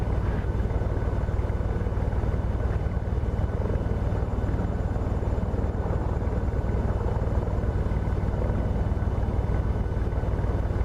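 An airliner in the Prepar3D flight simulator game makes a steady, loud engine and airflow roar for the whole landing, with no pauses or talk.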